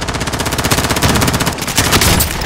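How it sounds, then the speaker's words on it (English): Rapid automatic gunfire in the Warzone video game, dense sustained bursts of shots rattling continuously at close range, loud throughout with no speech. "Taking fire!"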